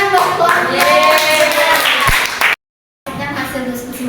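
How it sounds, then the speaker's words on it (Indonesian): A group applauds a presenting family team at a school academic supervision session, brisk close clapping for a couple of seconds, then a brief silence and more clapping mixed with a voice. "Tepuk tangan buat keluarga."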